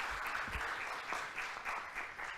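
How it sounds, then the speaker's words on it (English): Applause from an audience at a tech conference talk, steady and moderately loud with dense clapping throughout the whole short stretch. "let's give a round of applause for the speakers before and for all the organization"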